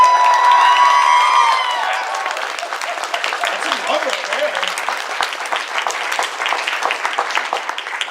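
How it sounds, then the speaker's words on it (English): A convention crowd applauds and cheers the staff of Everfree Northwest at a panel, with dense, loud, sustained clapping and whoops; a voice speaks briefly into a microphone at the start over the noise. "can we get a round of applause for the staff of Everfree Northwest?"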